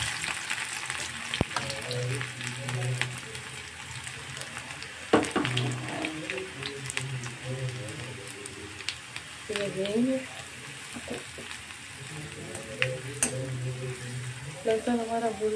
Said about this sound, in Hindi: लहसुन हमारा भून चुका है